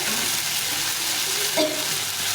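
Onion and garlic paste with spices frying in a pan for a gravy, a steady broadband sizzle throughout with a brief stir or scrape near the end.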